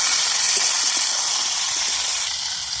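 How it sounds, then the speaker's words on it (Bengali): Tomatoes and onions fry in a wok, a loud, dense, steady hiss of sizzling that continues throughout without a break. "এবার আমি ভালো করে এগুলো ভেজে নেবো"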